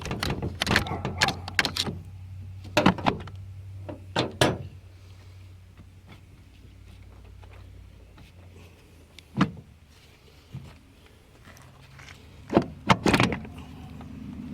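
Turbo 350 transmission front pump being pried loose with a pair of pliers: a series of sharp metallic clanks and knocks in bursts, close and fairly loud, with quiet pauses between and a low hum underneath.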